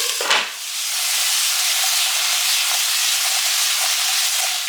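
Garlic and zucchini pieces sizzling in a pan, a steady close hiss of frying that holds evenly throughout after a brief clatter at the start, with no talking.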